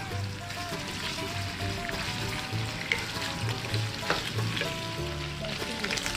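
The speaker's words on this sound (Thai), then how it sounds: "เจียวเบคอนให้กรอบเลยนะครับ" Bacon sizzles and crackles steadily in a hot pan as it fries until crisp, with occasional stirring scrapes and soft pops throughout.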